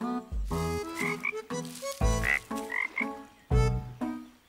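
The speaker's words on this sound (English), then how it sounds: "Look, there's frogs." Cartoon frogs croak in a bouncy, musical series of short, tonal ribbit calls. The calls come in quick bursts with brief gaps between them and are loud and close, with no talking.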